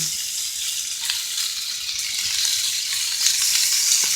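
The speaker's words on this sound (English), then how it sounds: "This bacon's just about ready. Flip the bacon over." Bacon frying in a pan, a continuous close hiss and sizzle of hot fat with faint crackles, steady throughout and without talk.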